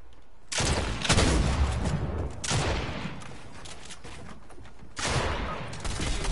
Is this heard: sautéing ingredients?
no